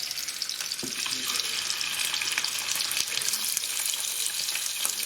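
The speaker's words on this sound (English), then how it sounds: "first thing we're going to do is brown off our chicken" Chicken wings browning in a pan on an induction hob, giving a steady, close sizzle and frying hiss throughout with faint scraping and turning sounds, and no talking.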